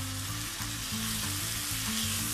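Green chilies, split in two, hit hot oil with a loud, steady sizzle and crackle that carries on unbroken, with a low hum running beneath the frying.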